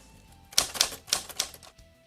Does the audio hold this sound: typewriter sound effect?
yes